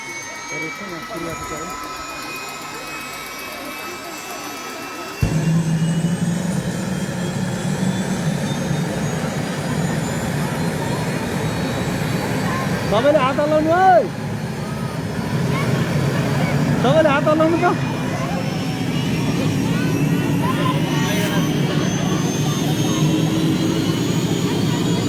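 A helicopter lifts off from a newly inaugurated helipad in Dhanchaur, its steady engine and rotor roar loud and continuous after a sudden onset, with a crowd and a voice talking over it.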